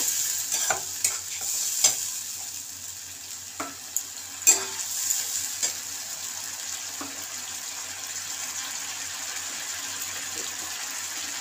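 Paste of onion, garlic and ginger frying in oil, a soft steady sizzle with a few sharp scrapes and taps of a spatula early on, then settling into a quieter even crackle.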